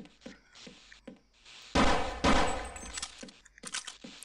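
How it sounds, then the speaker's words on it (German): Gunfire in the video game Half-Life HD: two loud, dense bursts of rapid shots close together, standing out sharply against quieter clicks and game sounds around them. "wieso hört sich das Schießen hier drin so komisch an?"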